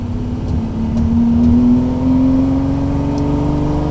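A high-revving Ferrari 330 GT or 365 GT V12 engine from the 1960s, freshly rebuilt, holds a smooth, rising whine close by, climbing in pitch briefly before easing back, with no talking.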